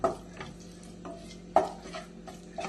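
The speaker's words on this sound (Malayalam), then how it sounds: "കുറച്ചിട്ട് എണ്ണയിലൊന്നും എല്ലാം ഒന്ന് വഴറ്റിയെടുക്കാം." Spices are sautéed in oil for mango pickle while a utensil stirs them around the pan, giving a few soft scraping knocks over a low, quiet background.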